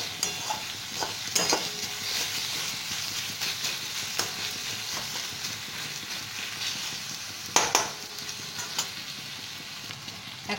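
Small chopped tomato fries in a pan over medium flame for masoor dal tadka, a continuous close sizzle with occasional sharp clinks and scrapes of a spoon stirring, no one speaking.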